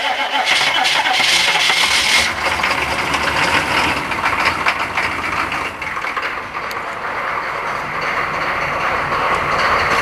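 Cold Chevrolet K2500 truck engine cranking and catching, then running with a steady loud rumble that softens slightly as it settles, close to the vehicle.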